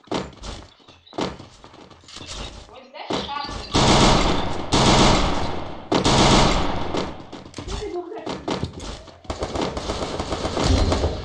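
Rapid automatic gunfire bursts and single shots from a multiplayer video game, loud and close, repeating in dense volleys with brief pauses, while players talk over the shooting throughout.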